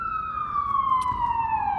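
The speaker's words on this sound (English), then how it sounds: "Why is there always an ambulance or a police car that always comes across and you're making a video" A police car or ambulance siren passes outdoors, one long steady wail that slowly drops in pitch as the vehicle goes by, moderately loud with faint traffic noise beneath.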